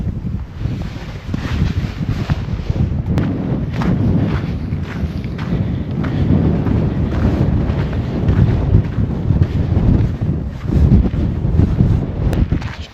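Warm wind gusts across an open campsite in the Peak District, a loud low rumbling buffet on the microphone that rises and falls in uneven surges, with faint rustling and no speech.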